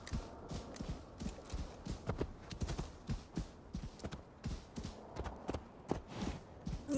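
Horse hooves clip-clopping in the video game Assassin's Creed Valhalla, a steady rhythmic series of close, moderately loud hoofbeats at a walking pace with no talk over them.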